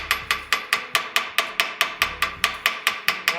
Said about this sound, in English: hammer blows